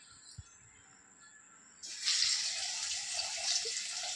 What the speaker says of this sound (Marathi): आता आपण शॅलो फ्राय करून घेऊयात।